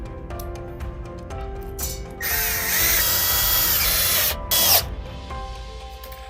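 A power drill drives a lag screw fitted with a washer into a handrail base, giving a loud, close whirring burst of a couple of seconds, a short pause and a second brief burst, with faint clicks and handling before and after.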